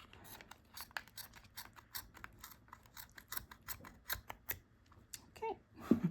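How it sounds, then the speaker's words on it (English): Scissors snip through crochet yarn on a star stitch bookmark with many quick, crisp clicks in an irregular rhythm, close and fairly soft. "take your scissors and cut off along the bottom edge"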